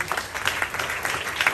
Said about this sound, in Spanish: Regale un fuerte aplauso.